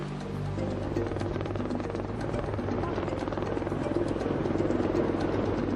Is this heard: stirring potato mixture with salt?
no